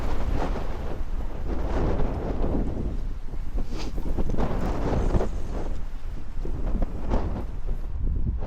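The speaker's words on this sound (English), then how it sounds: "Oh, that wind." Strong wind buffets the microphone beside water during a carp fishing session, a steady, loud roaring rumble with gusty swells that runs without a break, and no one speaks.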